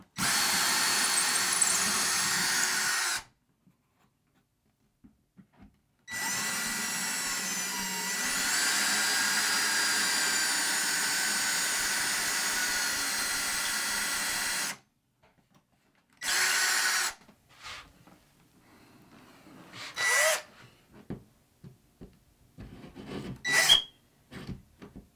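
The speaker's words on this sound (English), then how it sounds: "I can just drill them all in at the same time." A power drill bores a series of holes into a wall during a first DIY job, with long whining bursts separated by silences, then shorter stop-start runs and clicks near the end, loud and close.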